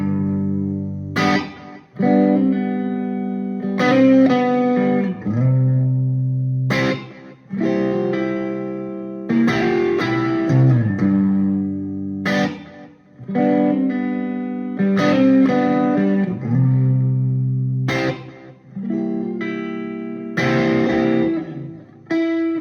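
An electric guitar plays a slow song through a Carstens Grace amp with a clean tone, loud and close, with sustained ringing chords and single notes separated by short pauses, no talking.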